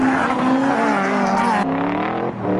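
A car drifting with tires squealing, recorded for a TV segment; a loud, sustained squeal of rising and falling pitch runs throughout, shifting tone partway through, with no talk over it.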